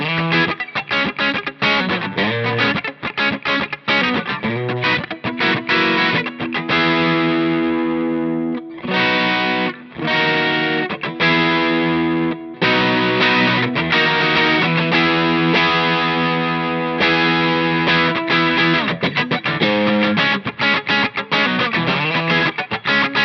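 An electric guitar plays a song through a Lightspeed overdrive pedal, with loud, continuous strummed chords and choppy rhythmic stops, alone with no talking.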